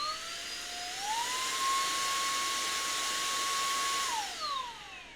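A cordless car vacuum cleaner with a HEPA filter and blower, used for a Tesla, runs at its second power stage: a steady high motor whine that rises in pitch, holds, then winds down.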